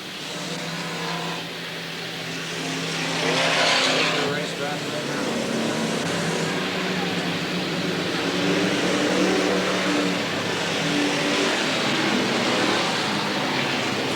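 Race cars roar around a dirt speedway oval during a 20-lap B main event at Willamette Speedway in 1989, a continuous loud engine drone under steady announcer commentary.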